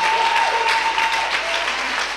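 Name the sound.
congregation applauding in church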